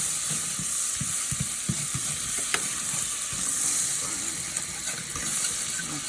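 Spoon scraping the bottom of a pan of turkey tenderloin in butter, a series of short scrapes and clinks over a steady sizzle, close and fairly loud.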